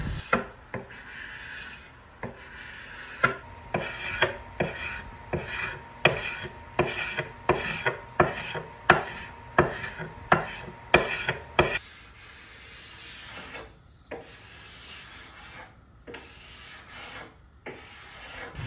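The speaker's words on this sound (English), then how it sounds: "this is probably the most satisfying part of using a carbide scraper, when it just peels off in these ribbons" A carbide scraper peels old finish off a 1980s wooden table in a steady run of about a dozen rasping strokes, then slows into softer, scattered scrapes.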